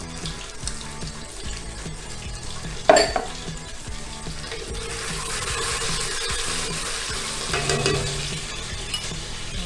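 Locust beans fry in hot palm oil in a pot for Nigerian local rice, a steady sizzle with a spoon stirring and scraping, one sharp clink near the start, close and alone.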